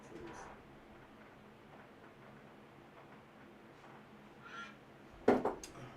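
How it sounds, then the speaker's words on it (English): A duck-quacking sound effect plays during a livestream race and auction, mostly faint under a low murmur of background noise before a loud honking burst near the end. "There's the duck noises."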